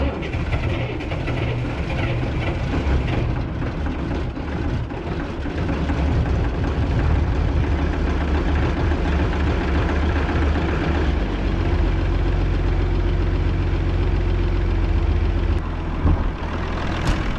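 Allis Chalmers tractor idling after sitting all winter, a heavy low diesel rumble that steadies and deepens partway through, close and continuous with mechanical clatter and no talk.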